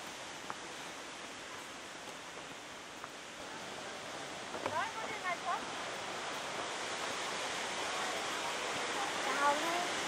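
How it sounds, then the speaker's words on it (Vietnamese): The Mu waterfall in Hòa Bình roars as a continuous broadband rush of falling water, steady and fairly close, with faint voices briefly heard over it. "Bởi vì đây là thác nước"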